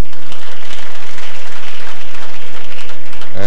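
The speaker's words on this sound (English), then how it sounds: "I want to say we should give all of them a round of applause" Loud, dense applause from an audience at a company's 56th anniversary gathering, a continuous roar of many hands so close and intense it overloads.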